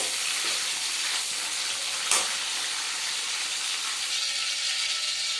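Vegetables frying in oil in a pan give a loud, steady, close sizzle that stays level throughout, with one brief sharp crackle near the middle and no voices.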